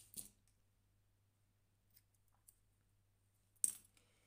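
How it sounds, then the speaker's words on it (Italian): Scissors snip through yarn for a crocheted hair band: a sharp metallic cut at the start and another crisp snip later, separated by quiet with a few faint clicks and a low background hum. "prendere poi le nostre forbici e tagliarlo"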